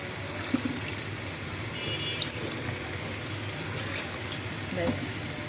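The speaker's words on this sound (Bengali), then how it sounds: "এখন পানি দিয়ে দিচ্ছি" Water poured into a pan of potato curry cooking alongside shol fish, a faint steady trickle and gush heard close by, low in level, swelling slightly near the end.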